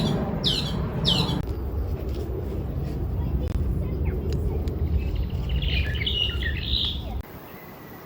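Birds calling in a New Zealand wildlife sanctuary: a couple of sharp chirps early, then a burst of twittering later over constant outdoor traffic rumble, with people talking.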